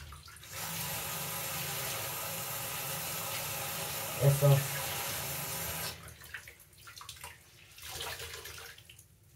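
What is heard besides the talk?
washing a small piece under running water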